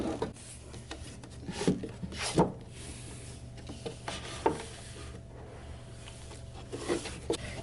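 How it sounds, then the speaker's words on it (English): A particleboard panel J being slid into a Better Homes and Gardens cube desk organizer, heard as soft scraping and rubbing with a few light knocks, quiet and close, with no speech. "After you've flipped over your unit, you'll want to take your J panel and insert it like so."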